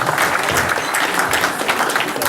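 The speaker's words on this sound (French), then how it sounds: "Alors on peut les applaudir très très fort" Steady, loud applause from an audience at a French community celebration, continuous clapping filling the whole stretch with no pauses.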